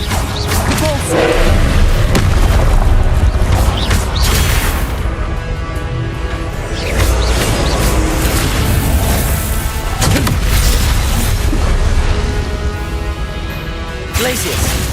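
Spell explosions in the video game Hogwarts Legacy: loud, continuous booms, crashes and thuds in quick succession, with heavy impacts dense throughout and a voice shouting spell names over the combat.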